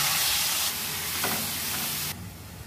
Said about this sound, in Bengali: এগুলো শুকনো লঙ্কা আর জিরে ফোড়ন দিয়ে দেবো